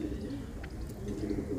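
Indian high-flyer pigeons coo softly in a low, rolling murmur, a steady close-by burble that continues throughout with no talk over it.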